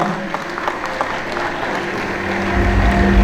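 A crowd claps in a short burst of dense applause, continuous and moderately loud, with a low rumble swelling at the end.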